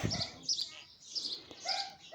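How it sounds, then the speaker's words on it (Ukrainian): Sparrows chirping around a village garden with flowers in June, a series of bright, close tweets repeating every half second or so, with a brief low thump at the start. "горобці цвірінькають"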